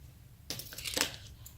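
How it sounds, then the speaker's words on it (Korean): Scissors snipping through the tied middle of a yarn pompom: a quiet, brief metallic snip with a few small clicks in a calm room, with no voices. "가위로 가운데 부분을 집어넣어서 이렇게 잘라줍니다."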